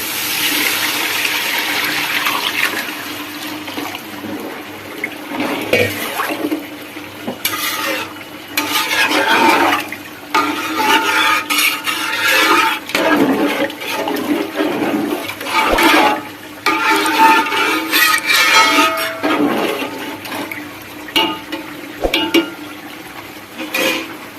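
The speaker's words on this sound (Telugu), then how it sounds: "ఇప్పుడు వాటర్ పోసుకుందాం." Water pours and splashes into a pot for pulao in several uneven gushes, with a few clinks of a metal vessel between pours, close by.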